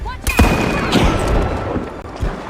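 A frag grenade explodes in the first-person shooter The Finals, a loud, close blast with a booming burst and debris crackle amid gunfire, while a voice speaks over the din.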